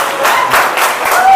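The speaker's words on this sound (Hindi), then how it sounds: "ऐसा खतरनाक ताली" Loud applause and clapping from a crowd, a dense steady patter filling the whole stretch at close range.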